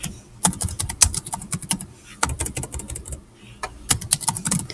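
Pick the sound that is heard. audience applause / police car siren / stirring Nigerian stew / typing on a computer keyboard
typing on a computer keyboard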